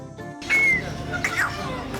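An expensive pet bird at a busy pet market in Chennai, India, gives two short, bright whistles, a sustained one and then a brief, warbling burst, over market background noise.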